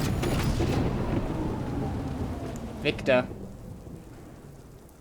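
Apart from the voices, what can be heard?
rain and thunder in the video game Death Stranding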